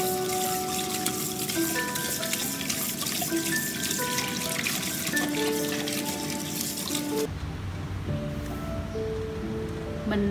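Octopus, softened by kneading with flour, is rinsed under running water in a kitchen sink, a continuous close splashing flow that stops abruptly near the end, no talking.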